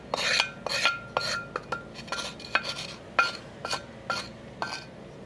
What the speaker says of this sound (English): All right, we're gonna add our blueberry mixture.